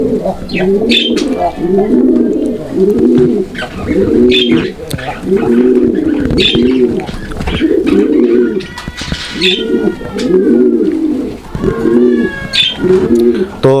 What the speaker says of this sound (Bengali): বন্ধুরা আপনারা কবুতরটা দেখছেন কতটা অ্যাক্টিভ এবং কতটা ডাকের কবুতর